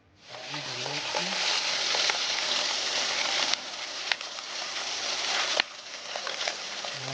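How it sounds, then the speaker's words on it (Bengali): Pieces of fish frying in hot oil for a Japanese-style fish curry with potato and pointed gourd, a steady loud sizzle crackling close by with a few sharp pops and stirring clatters, no talking. "মাছগুলো মোটামুটি ভাজা হয়েছে, আর একটু ভাজতে হবে। আমি ভেজে নিচ্ছি"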